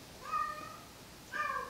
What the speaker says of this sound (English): I apologize for my cat crying in the background.